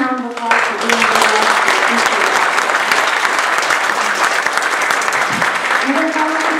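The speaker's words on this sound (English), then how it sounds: "Let's give Tim a round of applause for being here." Audience applause at a Toastmasters International Speech Contest, steady dense clapping from a seated crowd sustained for the full length, with a brief voice near the start and end.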